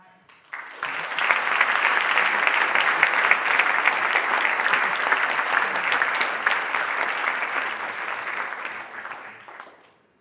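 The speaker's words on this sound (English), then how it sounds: "Ladies and gentlemen, please a big round of applause and welcome Leif tonight" An audience at a FuckUp Nights event applauds to welcome a speaker, with dense clapping swelling quickly, holding loud and steady for about eight seconds, then fading out, with a faint murmur of crowd beneath.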